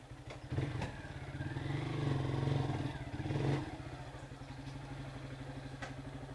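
A motorcycle engine idles with a rhythmic putter, briefly revving louder in the middle before settling back to a steady idle nearby.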